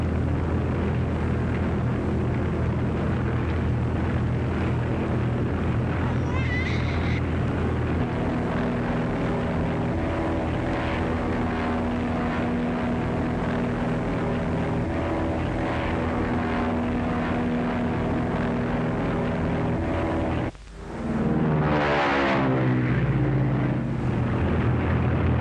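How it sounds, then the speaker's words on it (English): A high-wing monoplane propeller aircraft drones loudly and steadily in flight, its engine roar rising in pitch partway through, with a brief dip and surge near the end as it passes close. "High-wing monoplane just ahead of you about 3 miles."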